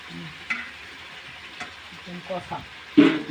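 Chicken kosha stirred and fried in a pan at home: a low steady sizzle with spoon scrapes and clatters, ending in a louder clank near the finish.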